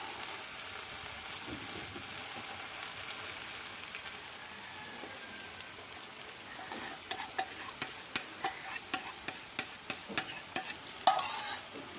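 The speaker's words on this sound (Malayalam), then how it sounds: "ഇവിടെ ഒഴിച്ച് ഇങ്ങനെ ഇളക്കി വേവിച്ചെടുക്കുക" Egg and okra cooking in a pan, first a soft steady sizzle, then a run of sharp, irregular scraping taps as a utensil stirs the mixture, fairly close and with no talk.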